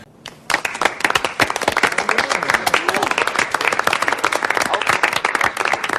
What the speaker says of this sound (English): Looks like someone turned the clinic applause sign on again